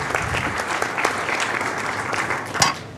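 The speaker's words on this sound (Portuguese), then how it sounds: "uma salva de palmas a eles" Conference audience applauding panelists after an energy debate panel in Brazil, a continuous wash of many hands clapping at moderate distance, with a sharper clap burst near the end.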